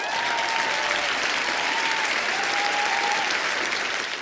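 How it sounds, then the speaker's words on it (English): Steady, dense audience applause for an international speaker being welcomed to the stage, sustained at even strength throughout with faint tonal whistle-like traces and no talking. "Now please give a warm welcome and round of applause for international speaker Walt Heyer."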